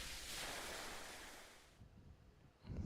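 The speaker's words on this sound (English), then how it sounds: "I heard something like waves while the sound around me faded" Ocean waves wash through a dreamlike scene in the video game Despera Drops, a broad surf rush that swells and then fades away toward the end.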